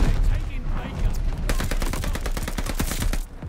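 Call of Duty Vanguard gunfire punching through a wall: a dense, loud burst of rapid shots starting about midway and running steadily before cutting off, with lighter game noise beforehand.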